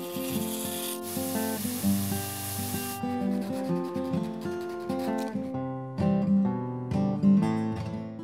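A sanding block scrapes at an angle along the ends of ukulele fret wire to chamfer them, making repeated rubbing strokes, close and steady.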